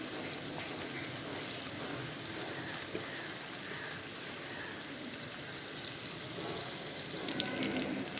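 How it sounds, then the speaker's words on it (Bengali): Chopped onion lightly frying in a pan for a fish curry, a steady soft hiss and crackle of oil running continuously at moderate level, with a few small clinks near the end. "পেঁয়াজটা হালকা একটু ভেজে নিই"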